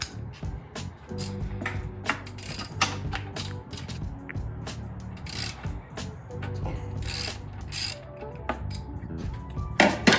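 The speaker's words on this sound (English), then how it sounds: "we're gonna start off with this socket. So it's 18 millimeters for that bolt down there. So we're gonna get that bolt off." An 18 mm socket wrench loosens a bolt on a Mercury 50 hp outboard motor, producing close metallic clicks and clanks in uneven bursts over a low engine-like hum.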